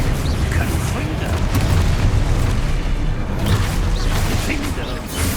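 Hogwarts Legacy gameplay, where the Confringo spell goes off in a dense, booming fiery explosion that rolls on for several seconds amid continuous spell-combat noise, with a voice shouting spell names.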